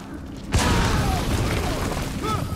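A grenade blast in the video game Metal Gear Solid V hits suddenly and loudly after a quiet moment, followed by a long, rumbling tail with scattered debris and game effects.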